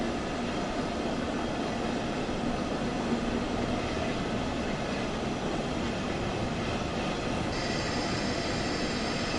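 Train Sim World 2 train rolling freely with the brakes released on the Hamburg–Lübeck main line, a steady loud rumble of wheels and running gear throughout, with a faint added hiss near the end.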